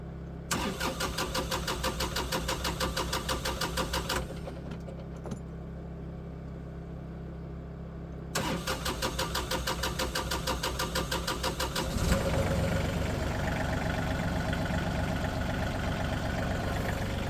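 Diesel farm tractor engine restarting after running out of fuel, cranking in rhythmic bursts twice with a pause between, then catching and settling into a rough, loud, close idle.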